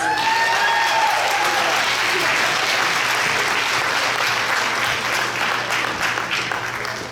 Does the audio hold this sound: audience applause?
yes